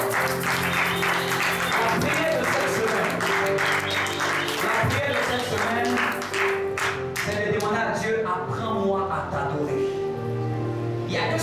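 A church congregation applauding and cheering for God during a worship service, dense clapping and shouts over ongoing music with sustained tones, continuing for several seconds before thinning out.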